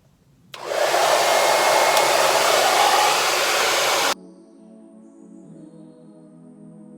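A hair dryer on a low, cool setting blows steadily and loudly on nearly dry hair for about three and a half seconds, then cuts off abruptly, leaving a quieter, lower hum.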